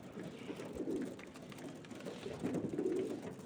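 Pigeons coo softly nearby, low throaty calls rising in two gentle bursts over a quiet background.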